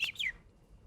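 A person whistles through their teeth to imitate a bird, making two quick, bright chirps close to the microphone, followed by quiet.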